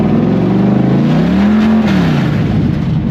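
A car engine, long abandoned and newly revived, revs hard up toward 8,000 RPM, a loud continuous roar whose pitch climbs, peaks and falls back, close and alone throughout.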